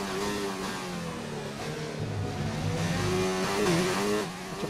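Formula 1 engine in the F1 2019 racing game, a loud sustained high-pitched whine with revs rising and falling through gear changes as the car takes a track chicane, steady and close throughout.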